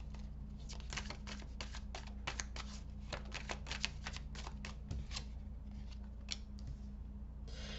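Quiet, rapid clicking and snapping of cards being shuffled, a rhythmic series of crisp flicks over a low steady hum.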